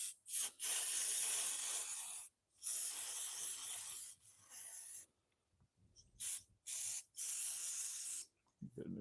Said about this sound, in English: I'm just going to blast it with some carb cleaner.